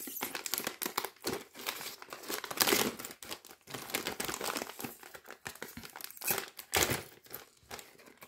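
Plastic packaging on a LEGO Ninjago magazine crinkles and tears in repeated close bursts as it is worked open by hand.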